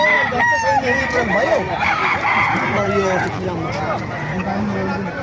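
A rooster crows loudly and repeatedly among clucking chickens at a bustling chicken market in Bocaue, Bulacan, with crowd babble and voices talking throughout.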